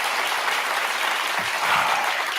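Steady applause from a studio audience fills the whole stretch at an even level, a dense continuous wash of clapping with no voices standing out.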